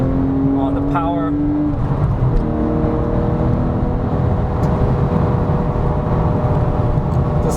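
A 2008 Porsche 911 GT3 (997) sweeps through a corner with a loud, steady in-cabin engine drone and road roar, a brief pitch drop as it shifts mid-corner, while someone talks over it.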